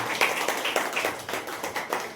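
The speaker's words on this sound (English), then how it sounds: "Please clap for boys team who is winner today." Audience applause for a winning boys' team at a school-style competition, a steady patter of many hands clapping at moderate distance, continuous through the moment with no voices on top.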